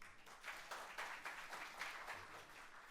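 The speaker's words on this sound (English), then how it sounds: "Now I request everybody to give him a round of applause." A seminar audience at an auditing standards program gives a round of applause, soft, fairly distant clapping with a rhythmic pulse that stays even for a few seconds.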